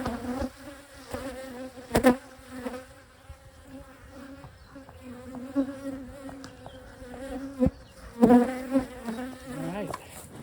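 Honeybees buzz steadily inside a hive opened for inspection, a close, continuous drone with a few sharper swells and clicks, and no voice heard over it.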